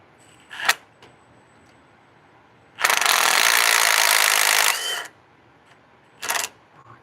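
A ratchet tightens a bolt during a Firestone air bag install on a 2017 Ford F-250, with a short click, a sustained two-second run of rapid ratcheting, and a final brief burst, close and alone in a quiet space.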